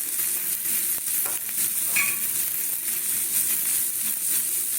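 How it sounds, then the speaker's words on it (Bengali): Roasted cumin, fennel and dried chilli are stirred into a frying pan as part of a semolina recipe. A continuous close sizzle with faint scraping is punctuated by a few sharper utensil clicks. "আমাদের ভাজা মশলাটা দিয়ে দিচ্ছি এই জিরে মৌরি আর শুকনো লঙ্কা"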